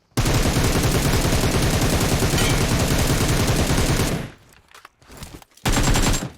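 Gunfire in PUBG Mobile: a loud, dense automatic burst of rapid shots that lasts about four seconds, followed by a quieter gap and then a few shorter bursts.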